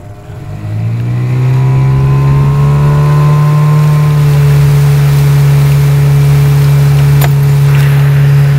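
A motorboat engine drones steadily at close range while trolling for fish, rising briefly as it revs up and then holding an even, low hum throughout.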